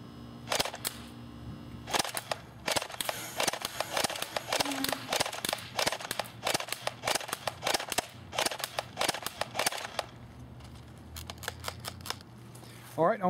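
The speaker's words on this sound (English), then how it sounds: "I'm going to put it on semi. I'm going to shoot that target right there." An Umarex H&K G36c airsoft electric gun fires on semi-auto at a target 50 feet away outdoors, a long run of sharp, evenly spaced snapping shots, close and loud, with someone speaking between them.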